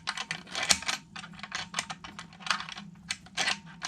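Metal bit key turning in an antique mortise lock on a refinished door, giving a run of small dry clicks and scrapes at close range, irregular and quiet, with no talk.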